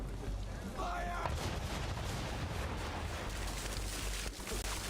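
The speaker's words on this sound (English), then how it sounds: "Now, aim all guns at her bow and do as much damage as possible." Ship cannons in Assassin's Creed III fire at an enemy vessel, a dense, continuous roar of booming gunfire and rumbling blasts filling the whole stretch at high loudness, with faint voice-like sounds mixed in.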